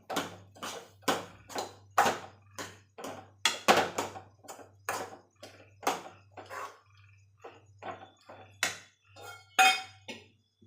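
A spoon clinks and scrapes against a pot while mixing garlic paste and chopped coriander for curd rice, a string of sharp, irregular metallic taps close by, with quiet gaps between strokes.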